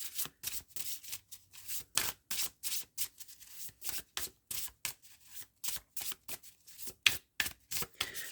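A deck of astrology cards is shuffled by hand in steady, close riffling bursts, each a crisp papery flutter, repeating about twice a second in a quiet room with no voice.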